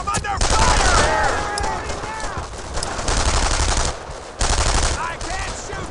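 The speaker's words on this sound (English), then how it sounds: "I'm taking some fire Paddock, here" Machine guns fire in a World War II shooter game, Brothers in Arms: Earned in Blood. The shooting comes in loud rapid bursts with short pauses between them, and soldiers shout underneath.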